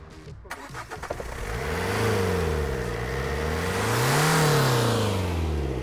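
A petrol-fuelled diesel car, misfuelled, restarting on a booster: a few cranking bursts, then the engine catches and revs up and down in two long swells, loud and close.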